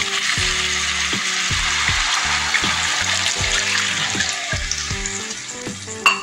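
Water poured into a pan of Bengali olive barb fish curry with chillies, a steady broadband rush and gush over a background of clinking and hum, ending with a small clatter.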